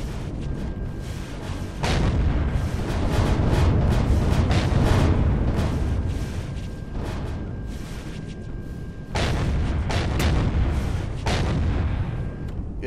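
Sustained booming gunfire blasts trees in the video game Empyrion, a loud, continuous rumble of shots with sharper bursts at several points and no talk over it.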